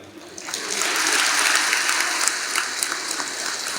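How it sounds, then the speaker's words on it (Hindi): A temple congregation claps during a religious discourse at a Radha Krishna temple, a dense wash of applause that swells after half a second and continues steadily throughout. "तालियों की आवाज कम आ रही है।"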